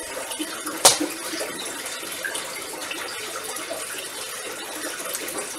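A JBL Crystal Profi E1501 aquarium filter in a fancy goldfish tank pours and splashes water continuously, a soft steady trickle with one brief louder splash early on.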